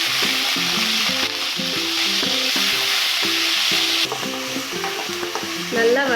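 Sundakkai vathal fries in hot sesame oil in a pan, a bright continuous sizzle under busy, rhythmic stirring and scraping close by.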